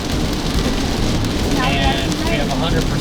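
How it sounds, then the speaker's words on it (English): Steady rain pours down throughout, a dense, continuous hiss on a surface, with faint speech-like sounds blended in during a wet outing. "It's rain today."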